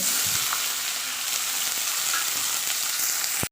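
Chopped onions fry in oil with a dense, steady crackling sizzle close by, a few light utensil taps, and no one speaking.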